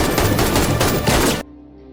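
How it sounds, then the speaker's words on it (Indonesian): Rapid automatic gunfire from a film shootout during a hotel escape, a loud continuous volley of overlapping shots that cuts off abruptly, leaving a faint low room tone. "disusul dengan baku tembak."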